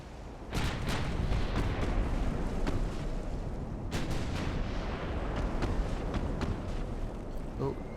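Naval gunfire in Ultimate Admiral: Dreadnoughts, with secondary batteries firing amid battle noise: several sharp distant booms scattered over a continuous rumbling wash, with occasional faint speech.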